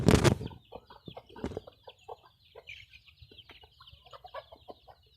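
Chickens on a farm cluck in short, uneven bursts close by, opening with a loud flurry of flapping wings, then a scattered run of softer clucks and calls.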